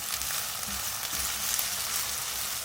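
Potato and tomato gravy for dhaba-style aloo matar is stirred as it fries in a pan, giving a steady, close sizzle with soft scraping pulses from the stirring.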